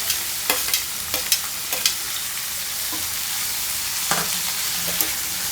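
Gizzard curry with green chillies and curry leaves being stirred in a pan, soft sizzling underneath a series of scraping spoon strokes and light clinks, close and fairly quiet, no talking.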